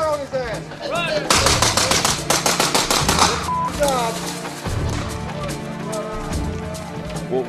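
Gunfire during a military training exercise: bursts of sharp, loud rapid shots and single cracks, close by, mixed with shouted voices and radio chatter.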